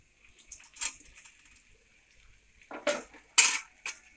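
Chicken pieces going into a pan for spicy street-style chicken noodles and being tossed, heard as sparse metallic clinks and scrapes of utensils, with a cluster of louder clattering toss sounds near the end and no talk.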